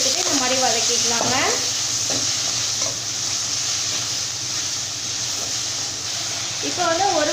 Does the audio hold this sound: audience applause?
no